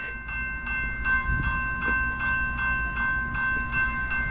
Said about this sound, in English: Sunday morning, first train of the day.